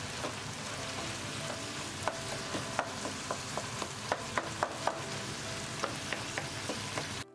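Crumbled firm tofu seasoned with sugar, mirin and soy sauce fries in a pan with a dense, steady sizzle, punctuated by light, quick taps and scrapes of a utensil, close and moderately loud.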